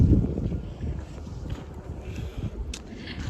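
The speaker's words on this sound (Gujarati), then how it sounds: "ઠંડો પવન આવે છે" Cold wind blows across a farm with tomato plants, a steady rough outdoor rumble with gusty low buffeting on the microphone and faint rustling throughout.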